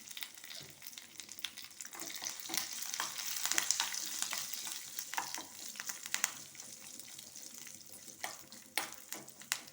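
Curry leaves crackle and sizzle in hot oil for a tempering meant for a Mangalore-style yam and chickpea gassi, with a steady close frying hiss and scattered sharp pops and spits throughout, and no talking.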